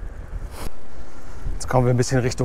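Gusty wind buffeting the microphone while riding an e-bike in South Holland in a force 4 breeze, a close rushing roar with someone speaking over it toward the end.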